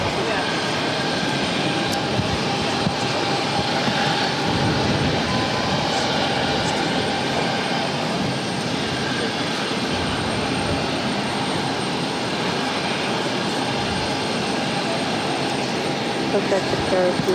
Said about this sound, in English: This Bombardier Challenger 350 taking off to Teterboro